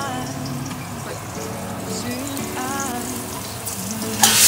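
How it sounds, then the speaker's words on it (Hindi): Raw chicken going into a hot pan of frying garlic, a steady sizzle with small stirring and scraping sounds, close up, then a sharper burst of hissing near the end. "ब्राउन करने से पहले ही हम इसके अंदर चिकन डाल देंगे"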